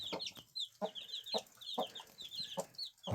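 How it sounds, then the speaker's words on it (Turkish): Chicks chirp and cluck in quick, repeated high calls close by, with soft rustling and scratching between bursts. "Kış civcivleri bunlar."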